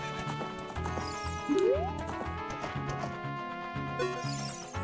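Horse hooves clip-clop at a gallop in The Legend of Zelda: Ocarina of Time, with a brief whinny, set against steady game music throughout.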